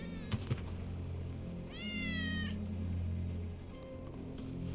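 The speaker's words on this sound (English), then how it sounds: "Our cats. It's Wedge's cat." Cat in the video game Final Fantasy 7 Remake gives one clear, wavering meow over a low steady game ambience, preceded by a couple of soft thuds and followed by a faint short chirp.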